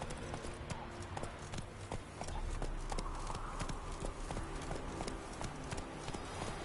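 Horse hooves gallop steadily in The Witcher 3 video game, a close, continuous clip-clop rhythm that stays loud throughout over a dense background of game sound.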